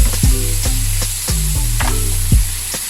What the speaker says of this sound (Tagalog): tiprituhin ko muna lahat ng ating mga chicken breast